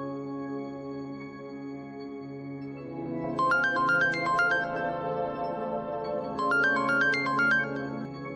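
A phone call rings with a repeating electronic melody, two bursts of bright tones over a sustained background music bed, moderately loud and with no talking.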